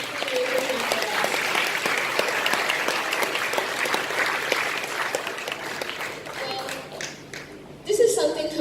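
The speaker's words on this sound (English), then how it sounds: "Let's give a round of applause to all our teachers who have willing to spend their careers with us." A graduation ceremony audience applauds the teachers with sustained, even clapping for several seconds. It thins near the end as chatter and a few louder sounds come through.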